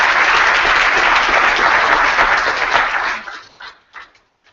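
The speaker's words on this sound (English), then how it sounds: "One quick round of applause again for Bill for just enlightening us." An audience at the 2015 ToolBank Summit annual luncheon applauds, a dense burst of clapping that holds for about three seconds and then thins into a few scattered claps before silence.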